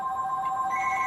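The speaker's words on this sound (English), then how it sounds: "There goes the phone." A telephone rings once in a steady electronic tone, clear and moderately close, with no voices over it.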